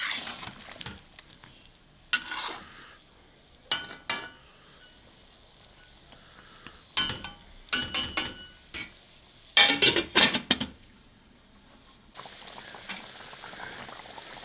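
Chicken karahi cooks in a pan with intermittent bursts of scraping and stirring over a soft sizzle, clattering clusters separated by quieter gaps, close and without talk.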